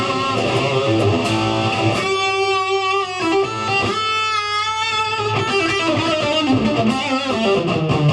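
A Marshall DSL electric guitar amplifier, the 2018 series DSL1, with its gain turned up just past two o'clock, driving loud, sustained distorted guitar chords and ringing notes, close and continuous with no talking.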